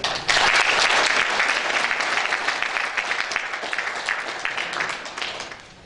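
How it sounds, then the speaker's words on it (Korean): An audience at a wushu association ceremony honoring a retiring honorary chairman claps in sustained, dense applause that starts loud and gradually fades toward the end. "황순남 명예회장님께 존경과 감사의 말씀을 드리면서 그동안 노고에 박수 한번 보내주십시오."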